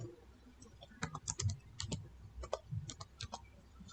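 Typing on a computer keyboard, a quiet, irregular run of close key clicks in short bursts with small pauses, alone without talk.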